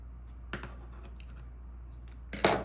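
Scissors cutting through card in half while making a slider card, two short crisp snipping bursts, the second louder and longer, close up in a quiet room.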